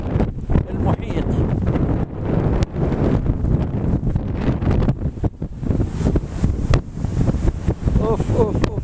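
Storm wind gusts hard across Staten Island's south beach, roaring and buffeting the microphone over surf from the ocean, loud and continuous with someone speaking through it.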